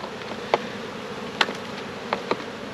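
Honey bees buzz around an open hive, a steady hum of many insects with a few individual bees darting close by in brief, louder passes.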